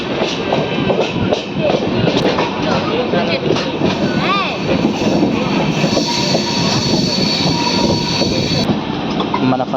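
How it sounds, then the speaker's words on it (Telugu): The Ratnachal Superfast Express between Visakhapatnam and Vijayawada runs loudly along the line near a junction, wheels rumbling and clattering with some squeal, someone talking over the steady train noise. "ఇక్కడ మన ట్రైన్ ఇటు సైడ్ లెఫ్ట్ సైడ్ వెళ్ళిపోతుంది"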